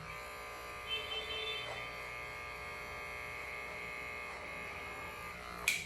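Electric hair clipper cutting long hair, a steady close buzz running throughout with small shifts in tone as it moves through the hair, no voices.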